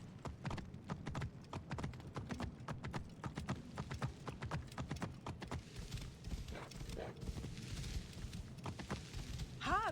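Horse hooves clip-clop steadily in Assassin's Creed Origins, a fast, even rhythm of sharp hoof strikes close by that lasts throughout, with a brief whinny-like rising call near the end.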